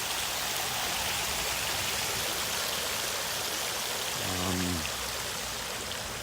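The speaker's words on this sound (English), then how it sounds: "Water fountain, I should say." Steady splashing water fills the clip, a constant broad rush of a fountain falling into a basin in a resort courtyard, with a brief low rumble partway through.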